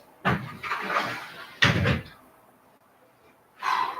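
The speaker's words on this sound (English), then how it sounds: "Hold on, I'm going to close the door." A door is pushed closed with a couple of thuds and rattles, followed by a quiet pause and a later softer bump, all close by.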